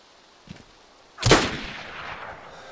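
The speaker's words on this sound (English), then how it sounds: "One more shot." A single sharp gunshot from the DayZ video game cracks out loudly, its report trailing off into a decaying echo, preceded by a faint click.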